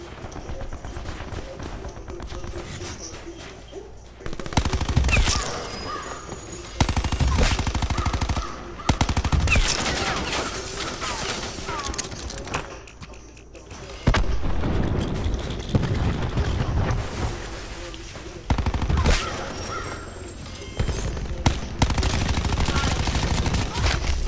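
Dense, loud Call of Duty: Black Ops 4 gunfire, with rapid automatic bursts, single shots and booming impacts in heavy overlapping waves throughout.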